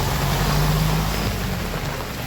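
Heavy rain roars steadily and loudly outdoors during a downpour on a road, a dense, unbroken wash of noise with no clear voices.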